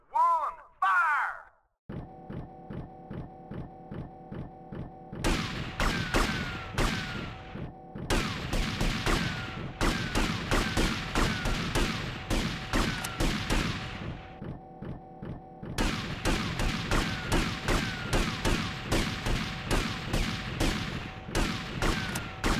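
Repeated volleys of gunfire from an execution-style firing squad in GTA Vice City Definitive Edition, loud dense bursts of rapid shots recurring over a steady mechanical drone, with brief gaps between salvos.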